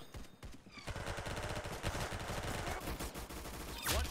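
Rapid gunfire in a shooting scene, a dense burst of repeated shots like an automatic weapon, loud and close, running continuously with a heavy low rumble and a sharp whoosh near the end.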